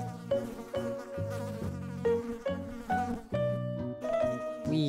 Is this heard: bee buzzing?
yes